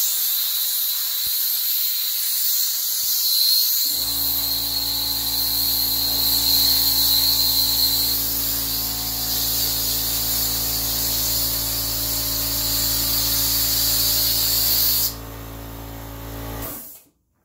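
An aerosol can sprays Plasti Dip outdoors onto parts of a 2015 Jeep Grand Cherokee diesel with a long, steady, close hiss. A low droning hum joins partway through, then the spray stops near the end.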